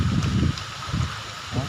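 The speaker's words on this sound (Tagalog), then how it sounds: "Sobrang lakas ng hangin" Strong wind buffets the microphone in heavy low rumbling gusts, surging and fading, with a rushing hiss of heavy rain behind it, at sea.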